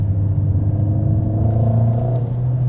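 A Mercedes-AMG GLA 45 S with a powerful four-cylinder engine burbles and blubbers from its exhaust while climbing uphill, a loud, close, continuous low rumble from inside the car.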